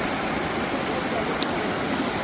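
Water rushes steadily where the Kudali river meets another stream, a dense, even roar of flowing current with no breaks over a couple of seconds.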